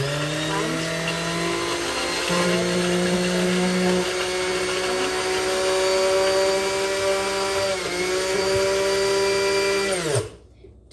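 A food processor whirs steadily for about ten seconds while blending eggs for homemade mayonnaise, then cuts off abruptly near the end, with a brief pitch wobble midway.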